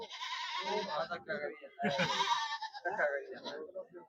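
Goats bleat in wavering calls at a busy goat market in Mullanpur Dakha, the cries mixing with close voices bargaining over prices.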